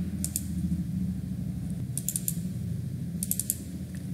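A computer mouse clicks in three quick bursts of two or three sharp ticks each, close and fairly quiet over a steady low background hum, while a file is being selected in ArcMap mapping software.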